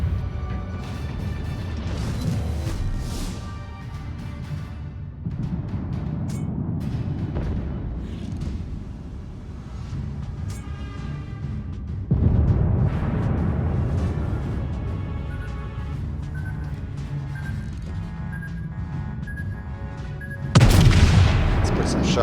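Naval guns fire in the World of Warships game, heavy booms and crashing blasts rolling out at intervals over a constant rumbling background, with a loud salvo near the end.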